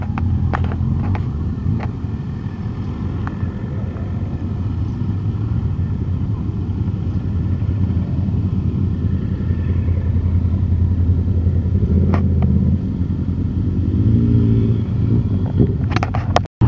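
Motorcycles gathered at Kameishi Pass, heard as a continuous low rumble of engines idling and passing at a mountain-pass meetup, steady throughout with occasional sharper clicks and a brief end noise.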